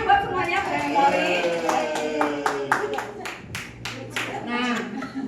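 An audience in an Indonesian peer-teaching class claps in a quick burst of sharp, rhythmic hand claps, mixed with voices talking and cheering.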